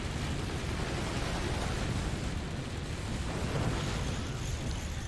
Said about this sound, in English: self-destructing everything in a chain of secondary explosions